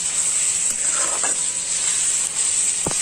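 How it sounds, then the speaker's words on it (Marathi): Onions with a half spoon of turmeric sauté in a hot pan for fenugreek sukki bhaji, giving a steady, close sizzle with a couple of brief stirring scrapes. "परत कांदा 1 ते 2 मिनिट परतून घेऊया"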